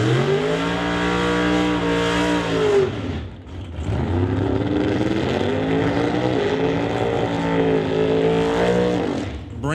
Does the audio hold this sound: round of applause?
no